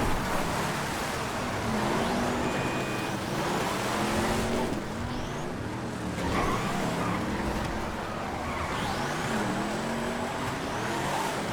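Race cars in the GTA FiveM video game, including Sabre Turbos, scream along a straight past back markers, engines rising and falling in pitch as they accelerate, overlapping and loud.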